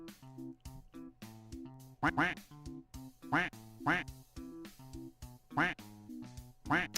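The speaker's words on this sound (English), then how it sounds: "Put a duck in the pond." A duck quacks in a series of loud, nasal quacks spaced a second or so apart over a steady musical backing of repeated notes.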